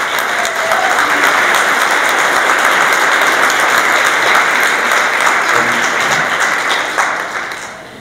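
Sustained audience applause after a talk, a loud, dense roar of many hands clapping steadily for several seconds before tapering off at the end.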